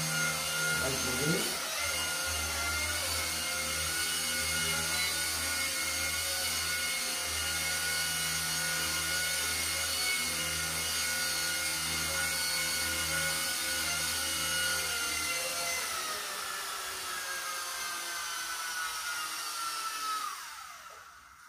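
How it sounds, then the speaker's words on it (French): A small toy RC helicopter, Eachine E130, flies outdoors, its motor whining steadily at high pitch with a buzzing rotor drone, holding constant for a long stretch before easing off near the end. "Voilà, un bon petit hélicoptère"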